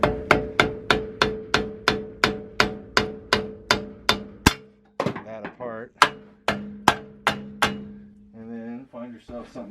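A rubber mallet strikes a wedge into a broken shovel handle in a steady series of sharp, ringing knocks, about two blows per second. The blows break off briefly while someone talks, then resume close and loud.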